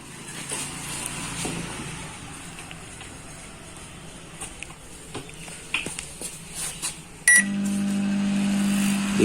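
Microwave oven running after a repair with its fan noise gone: a steady low hum that starts abruptly near the end, preceded by quieter clicks and handling sounds, no talking.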